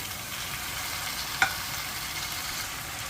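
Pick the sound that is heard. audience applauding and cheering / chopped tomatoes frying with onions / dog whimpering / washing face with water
chopped tomatoes frying with onions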